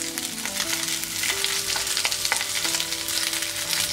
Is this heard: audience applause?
no